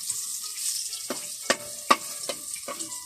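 Garlic fried rice sizzles steadily in a hot pan while a utensil stirs it, scraping the pan in several distinct strokes over the constant frying hiss; no voices.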